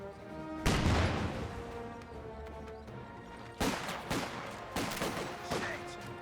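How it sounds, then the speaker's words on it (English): A 6-pounder anti-tank gun in Company of Heroes 2 fires against a Volkswagen and sandbags, with several loud, sharp cannon blasts spread out through the clip amid background battle noise. "6-pounder, I think, firing against the Volkswagen, trying to destroy the hedge"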